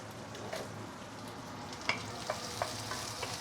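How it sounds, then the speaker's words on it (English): Prawns with their shells on are sautéed in a hot pan of oil for fried beehoon, giving a steady close sizzle and frying hiss with a few sharp spatula scrapes and stirring clicks. "I want to get some prawn oil from this sautéing process"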